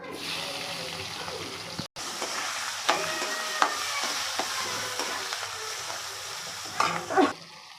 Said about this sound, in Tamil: வெங்காயம் நல்லா வதங்கிச்சு